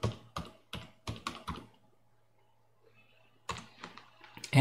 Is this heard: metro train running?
no